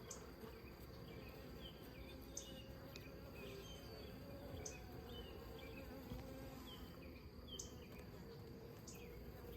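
A dense, steady hum of many honey bees buzzing close together in an open hive, continuous and low, with faint higher chirps scattered through it.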